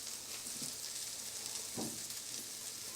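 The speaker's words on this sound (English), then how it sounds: "our brine, like I said, is boiling" Steady sizzling and bubbling of boiling brine, with a couple of soft splashes as vegetables drop in.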